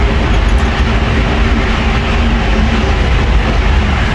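A rubber-tyred Paris metro train runs underground with a loud, continuous rumble and rolling roar, steady from start to end, close and with no voices.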